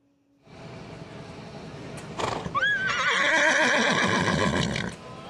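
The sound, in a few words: mule braying at Mule Days festival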